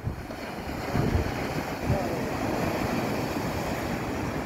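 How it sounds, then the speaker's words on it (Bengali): Ocean waves wash onto a sea shore below hills, a steady broadband rush of surf mixed with wind buffeting the microphone, with slight swells in loudness and no talking. "কত সুন্দর ঢেউ"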